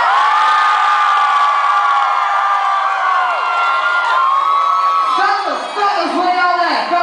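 A show audience screams and cheers loudly and continuously, a dense wall of shrill voices and whoops that stays intense throughout with a few rising shouts near the end.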